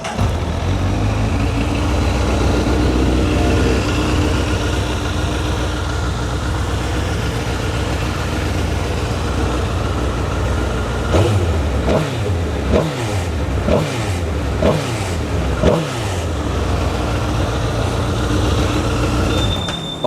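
A 1000cc superbike on its standard exhaust runs loud and close, with a steady low rumble followed by a cluster of sharp throttle blips late on.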